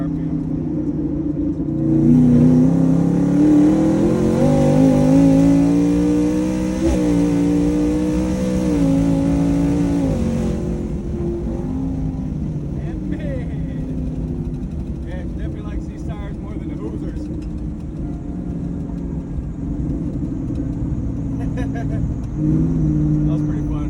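A twin-turbo shop truck pulls hard in fourth gear from around 3,500 RPM, the engine note rising loud and close for about ten seconds before dropping away to a lower rumble, with occasional talk over it.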